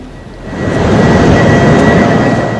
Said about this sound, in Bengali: মার্কিন যুক্তরাষ্ট্র থেকে আসে টার্কিশ এয়ারলাইন্সের একটি বিশেষ কার্গো বিমান